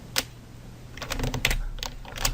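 Keys clatter on a computer keyboard in a quiet room, a few isolated taps giving way to a quick irregular burst of typing, close and moderately loud.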